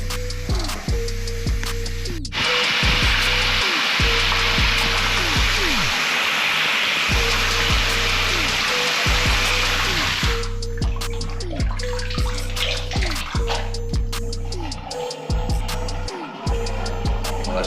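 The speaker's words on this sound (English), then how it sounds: "I'm going to fill up the pan of this and just let it go and see how well that's draining as well." Water runs from a tap into a shower pan and drains, a steady close hiss of pouring water under a low hum, with clunks and gurgles before and after the flow.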